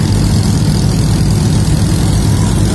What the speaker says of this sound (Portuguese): A lancha agora acelerou pra ver se consegue passar